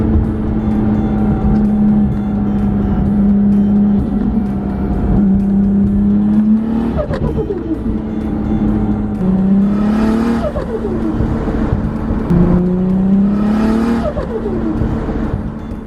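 A Toyota 86 fitted with a Nissan R35 GT-R VR38 twin-turbo engine accelerates hard, its loud, close engine note climbing through several gears, each rise broken by a short dip at the shift.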